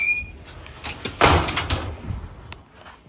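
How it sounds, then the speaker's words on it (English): A door swings shut with a solid thud followed by the click of its lock being turned, close by and fairly loud against a quiet room, then a few faint handling knocks. "I'm gonna actually lock the door"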